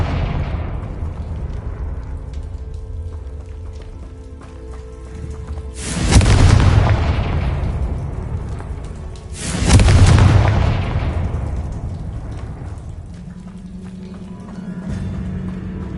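Two loud, deep booming blasts from the Confringo explosion spell in Hogwarts Legacy, a few seconds apart, each with a broad crackling burst and rumbling decay over low ambient game sound.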